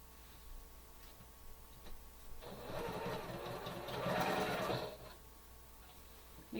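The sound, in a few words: sewing machine stitching quilt fabric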